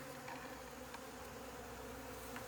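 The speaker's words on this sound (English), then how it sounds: "More and more bees are attracted to the sugar, and we have a feeding frenzy" A steady, dense buzzing of many honeybees in a feeding frenzy on sugar feed hums continuously, close and even, with no pauses.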